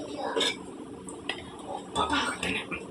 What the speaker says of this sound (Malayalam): പാകത്തിന് ഉപ്പ് ഉപ്പെല്ലാം ചേർത്ത് ഇളക്കി മൂടി വയ്ക്കുന്നു.